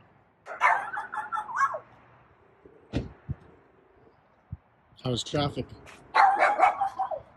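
A few sharp dog barks ring out between stretches of nearby talking, short isolated yaps rather than a steady chorus.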